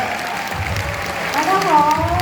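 An audience applauds warmly to welcome celebrity guest Ada Choi at a staff gathering, a steady wash of clapping that swells toward the end while a voice speaks over it.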